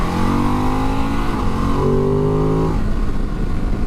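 A 2022 Ducati DesertX V-twin motorcycle does a flyby, its engine revving loud and close with rising pitch that drops away as it passes, continuous throughout.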